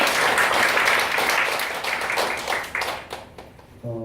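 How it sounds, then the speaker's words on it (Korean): Audience applause after a presentation at a church debate, dense and sustained for about three seconds, then thinning and fading out, with a brief voice at the very end. "박수 부탁드리겠습니다"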